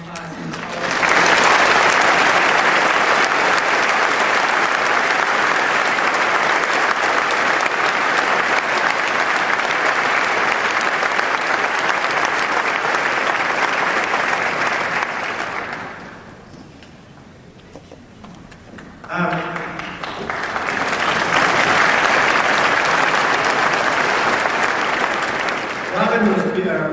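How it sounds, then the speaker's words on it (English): Audience at a Richard Dawkins event in San Diego, 2012, applauds loudly and steadily to welcome Sean Faircloth, the dense clapping fading briefly before swelling again near the end. "please welcome Sean Faircloth and give him a big round of applause"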